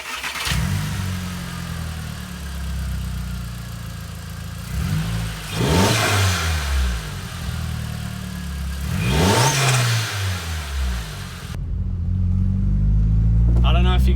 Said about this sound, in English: I'm just warming the car up